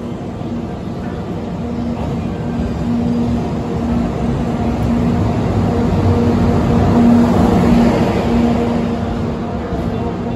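A train hauled by an EF64 electric locomotive arrives, a steady low rumble with a faint hum that swells gradually and then eases, heard alone without voices.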